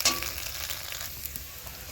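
Food frying in a pan in a home kitchen, a steady close sizzle with faint crackles running throughout.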